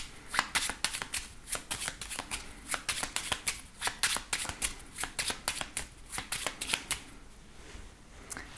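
A deck of 32 cards is shuffled over and over, crisp riffling bursts repeating in an even rhythm, close and fairly quiet, with no voices.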